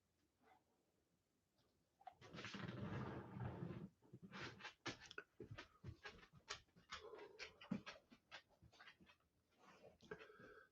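A dog pants and breathes heavily nearby in quick bursts, with quieter snuffles and soft whimpering sounds between them, alone in a quiet room.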